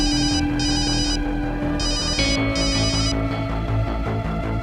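A telephone rings loudly in repeated electronic bursts with short gaps between them, and no voices are heard.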